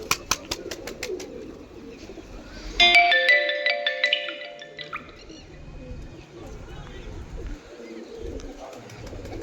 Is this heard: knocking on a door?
no